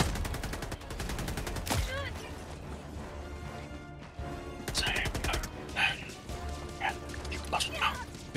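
Rapid bursts of gunfire from a weapon in Helldivers 2, loud and close, firing in dense rattling volleys with a sharp crack near the start, mixed with game effects and a voice talking over it.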